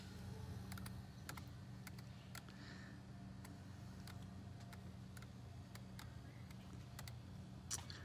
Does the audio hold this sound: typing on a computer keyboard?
yes